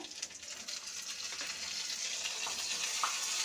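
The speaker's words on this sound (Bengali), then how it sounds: "ভালো করে ভেজে নিচ্ছি" Ginger paste fries in hot oil in a pan, giving a faint, continuous sizzle that gradually swells slightly.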